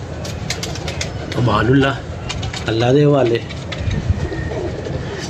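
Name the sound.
pigeons cooing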